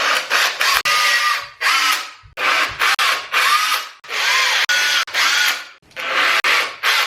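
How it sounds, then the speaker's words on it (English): A power drill whines in repeated short bursts, about eight close, loud runs with brief pauses between, pre-drilling holes into a hard surface while installing a wardrobe. "Now we're gonna pre-drill. So just pre-drill them like that."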